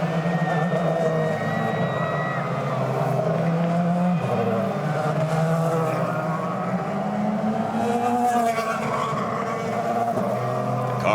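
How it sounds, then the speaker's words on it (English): IndyCar race cars pull away from pit lane at the Milwaukee Mile, a loud, dense roar of engines that holds steady with rising and falling tones throughout. "Cars pull off from pit lane"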